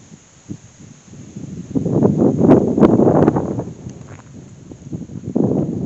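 Wind buffets the microphone in rumbling, uneven gusts at a park with picnic tables and a gazebo in Carthage, Missouri, with faint rustling and scattered soft knocks.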